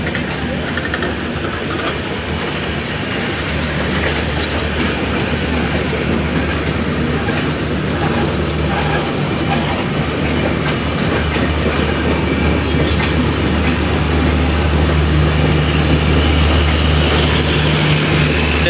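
A passenger train pulls out of Pirganj railway station, its loud, continuous rumble and rhythmic clattering wheels filling the scene and steadily building as it departs, with no voices heard.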